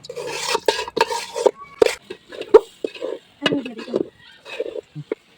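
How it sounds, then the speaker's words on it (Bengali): Rice and lentils are stirred with winter vegetables in a pot for khichuri, a spoon scraping and clinking against the metal in uneven bursts, close, with a voice talking. "এবার একটু চাল ডাল কষে নিব সবজির সাথে।"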